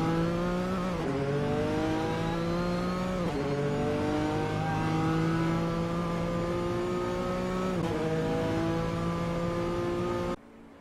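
A GT3 race car engine in a sprint-series racing game screams at high revs, rising through gears with sharp drops at shifts around every two to three seconds, steady and loud throughout before cutting off abruptly near the end.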